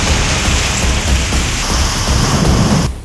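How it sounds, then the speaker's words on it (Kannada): Heavy rain pours during a thunderstorm in Kalghatagi taluk, a loud, continuous dense hiss with a low rumbling undertone that runs without a break and drops away only at the very end. "ಕಲಘಟಕಿ ತಾಲೂಕಿನ ಹಲವೆಡೆ ಭಾರೀ ಮಳೆಯಾಗಿದ್ದು ಗುಡುಗು ಸಿಡಿಲಿನ ಹೊಡೆತಕ್ಕೆ ಜನ ತತ್ತರಿಸಿ ಹೋಗಿದ್ದಾರೆ."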